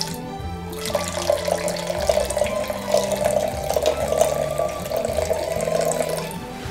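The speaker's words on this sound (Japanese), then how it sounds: "このように一本の糸のようにワインを注ぐということになります。" Wine falls from a height into a glass in a thin, thread-like stream, making a steady trickling splash that runs continuously for several seconds at close range.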